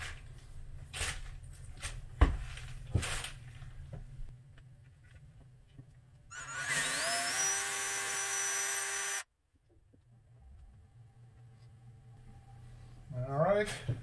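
A power drill whirs steadily for about three seconds while boring the first hole into a painted surface, preceded by handling clicks and knocks and followed by quieter shuffling.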